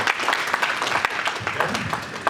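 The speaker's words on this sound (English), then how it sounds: "A round of applause." A round of applause from an audience after a speech on insurance in industry, with distinct individual claps standing out in a brief, fairly close burst of clapping.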